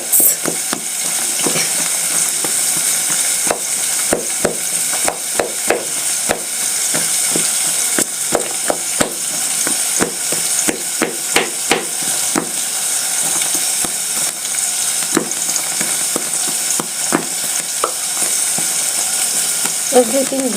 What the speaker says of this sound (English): we smash till everything in a mix